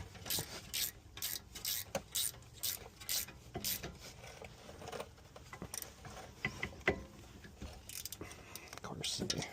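A hand ratchet tightens a rear brake caliper nut on a 2022 BMW X3 xDrive30i, giving quick bursts of close, metallic clicking in uneven runs, with quiet shop noise between.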